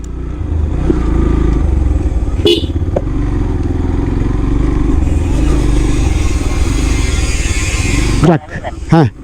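Motorcycles at a toll point by a river ferry ghat on the Someshwari River at Birishiri, Durgapur, with a loud, continuous engine drone close by for several seconds and a brief clatter and rev near the end.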